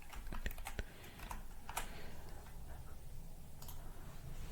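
Computer keyboard typing comes in quick, uneven bursts of light clicks, with a few sharper key strikes over a quiet background.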